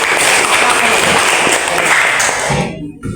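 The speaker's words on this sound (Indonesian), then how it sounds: "Diberikan aplaus dulu." An audience in a teaching-performance classroom session gives steady, dense applause that fills most of the moment, then cuts off abruptly near the end.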